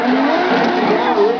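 Drift car in a Formula Drift Indonesia Top 16 battle pulling away from the start, its engine revving hard and continuous and fairly close, with tires hissing and a commentator talking over it.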